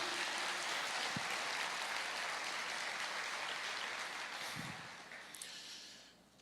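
A church congregation applauds during a sermon, a broad, sustained wash of clapping that stays steady and then tapers off near the end.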